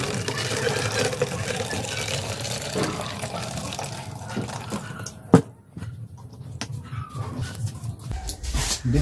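Water is poured from a jug into a bottle in a steady close trickle, with a sharp knock partway through and faint household background noise.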